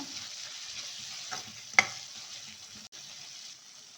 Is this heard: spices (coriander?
yes